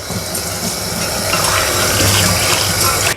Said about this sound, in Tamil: இப்போ இதை நல்லா கழுவிட்டு